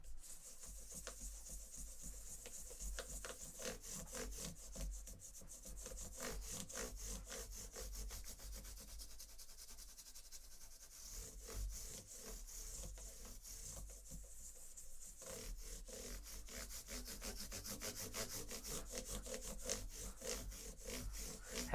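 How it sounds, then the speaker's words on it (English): Continuous back-and-forth sanding of wood by hand, a steady rasping rub with rhythmic strokes that runs the whole time at moderate, close volume, with no talking. "I'm going to be sanding here for a few minutes"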